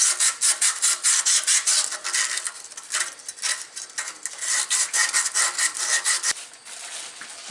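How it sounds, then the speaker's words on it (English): Emery cloth rubbed back and forth over the sealing surfaces of Kubota tractor radiator hose fittings, a steady close rhythmic scraping with one brief pause near the end. "We're going to use some emery cloth or crocus cloth, whatever you want to call it, and just clean up these sealing surfaces."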